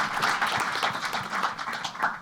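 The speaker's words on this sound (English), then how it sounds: "Clap it up" Audience applause at a youth STEM event held at Google, a steady wash of clapping from many hands sustained for a couple of seconds at moderate level, with no voices over it.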